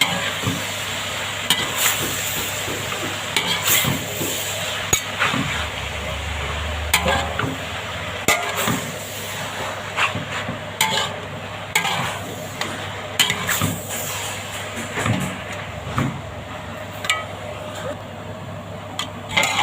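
Ingredients are stir-fried in a pan, with a continuous sizzle and frequent clattering, scraping strokes of a utensil against the metal, at a brisk uneven rhythm.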